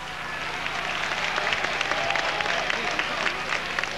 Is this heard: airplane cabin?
no